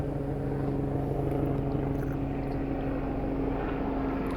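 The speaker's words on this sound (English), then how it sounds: "Helicopter" A steady droning engine with a pulsing low throb, like a helicopter passing nearby, constant and fairly loud throughout.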